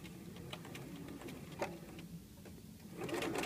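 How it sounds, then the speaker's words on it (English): A sewing machine backstitches a double fold hem, giving a soft, steady ticking run of stitches that grows louder toward the end. "I also am going to back stitch, so we'll start about a 1/2 inch down"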